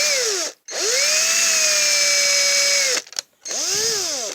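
A power drill bores into a Hot Wheels toy car, running in two sustained whining bursts whose pitch dips and settles, separated by brief stops and a short restart, close and loud with no talk.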